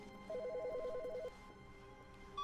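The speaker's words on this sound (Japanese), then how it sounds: "お電話が鳴ってるぞ" An electronic telephone trills in the video game The Stanley Parable, one rapid warbling ring of about a second over quiet room ambience, with no talk.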